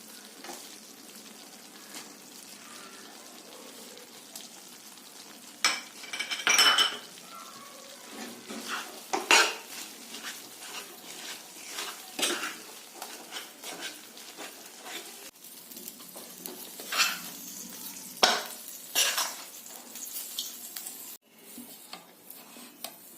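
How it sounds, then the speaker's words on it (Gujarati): Jaggery being stirred into a bel leaf and tulsi leaf powder mixture in a pan for sukhadi: a soft continuous sizzle with scraping stir strokes and occasional clinks of a spoon on metal, fairly quiet. "એની અંદર આપણે ગોળ, તોડેલો ગોળ હોય અથવા છીણેલો ગોળ હોય એ મિક્સ કરવાનો છે"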